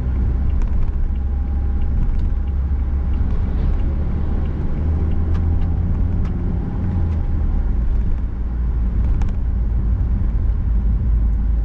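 A 2017 Volvo V60 D3 Momentum diesel accelerates hard to overtake, its engine a steady loud low rumble with road and wind noise heard from inside the cabin, no talking.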